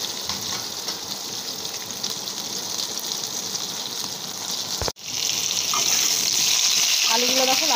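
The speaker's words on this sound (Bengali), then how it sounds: "আলুটাকে লাল করে ভেজে নেবো।" Potato pieces fry in a generous amount of oil until browned for a Bengali pointed-gourd and prawn dish. A steady, close sizzle continues throughout, with a brief break midway and soft stirring scrapes toward the end.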